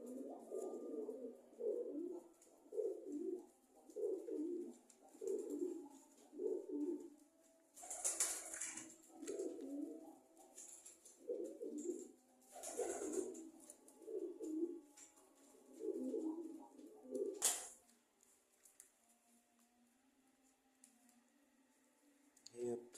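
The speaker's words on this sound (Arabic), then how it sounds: "هي الحمامة دي" A pigeon near its nest gives repeated soft, throaty coos in a steady rhythm of about a dozen phrases, close by, broken by a few sharp clicks and flutters before the calling stops near the end.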